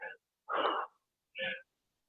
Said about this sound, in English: What an amazing sneeze that was.